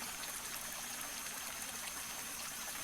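A video game waterfall produces a steady, faint hiss of rushing water, unchanging and continuous throughout, with no voices.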